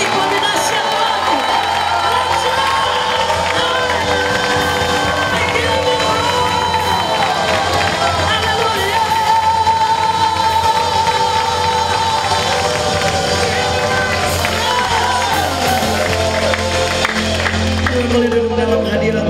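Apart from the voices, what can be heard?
church congregation applauding and cheering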